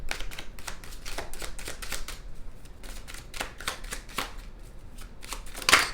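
A deck of tarot cards being shuffled by hand, with a string of quick, crisp riffling bursts at an uneven rhythm, close and fairly quiet, with no talking.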